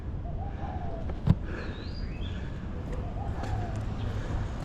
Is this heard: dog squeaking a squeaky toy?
no